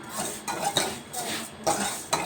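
Cashews and raisins being fried in a pan for vermicelli payasa, with a spoon repeatedly stirring and scraping against the metal in several loud bursts and a faint sizzle underneath.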